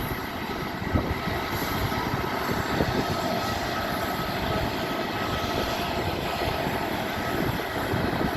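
Garuda Indonesia Airbus A330-200 wide-body airliner on a domestic flight, its jet engines giving a loud, steady broadband roar that holds evenly without pause.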